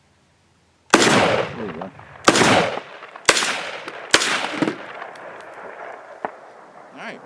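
Rifle chambered in 5.56, like an AR-15, fired outdoors in cold Arizona desert: four loud, sharp shots spaced about a second apart, each with a booming tail, followed by a fainter pop, with brief talk between.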